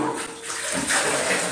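Soaked wheat grains tipped into a pot of boiling water, a short close splash and watery rush lasting about a second and a half.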